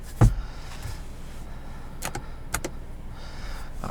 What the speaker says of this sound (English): Sliding visor.